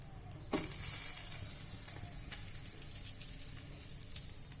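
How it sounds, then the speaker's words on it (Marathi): Green eggplant roasting over a stove flame, a faint steady hiss and sizzle that starts with a sharp crackle, then holds low and even, close by and with no voices. "पटकन व्हावं म्हणून मी दोन्हीकडे भाजत आहे वांगे"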